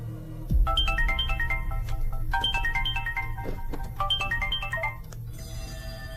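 A telephone ringtone in a Hindi-dubbed South Indian horror comedy film plays a bright repeating electronic melody in three phrases, loud and close over a low background hum, with a thump near the start.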